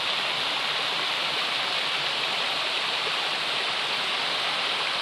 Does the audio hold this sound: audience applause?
no